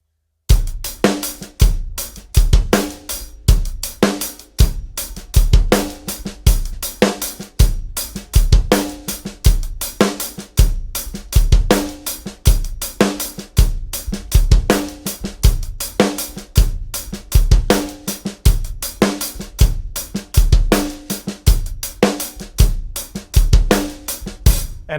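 A drum kit plays a steady groove with a syncopated hi-hat variation: crisp, dense hi-hat strokes over regular kick and snare hits, looping evenly and loudly for the whole stretch with no voices.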